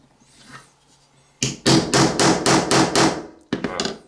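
A pin is knocked out of a Victorinox knife with a hammer: a rapid run of about six sharp, loud metallic blows, then a short pause and a few more hits.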